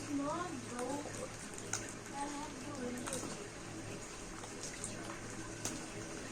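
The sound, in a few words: rain falling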